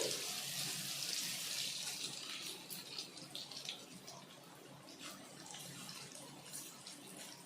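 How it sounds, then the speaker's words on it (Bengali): Lentil fritters (piyaji) fry in hot oil with a soft, continuous bubbling sizzle that sounds almost watery, fairly quiet and with no voices. "তেলটা এখন ভালোভাবে গরম হয়ে গেছে। এখন আমি ডালের বড়াগুলো আবার দিয়ে দিচ্ছি।"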